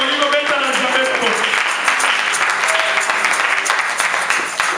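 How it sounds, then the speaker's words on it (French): A church congregation at a Sunday service claps and cheers together, sustained and loud, with voices mixed into the applause. "Est-ce que tu peux acclamer le Seigneur?"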